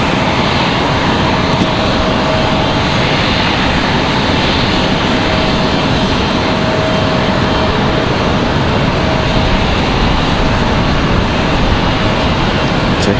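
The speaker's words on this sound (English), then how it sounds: "JetBlue from San Juan, Puerto Rico now on final." A JetBlue airliner arriving from San Juan, Puerto Rico, on final approach at Raleigh-Durham International Airport, a loud continuous engine roar with a faint steady whine that holds unbroken throughout, with no voices.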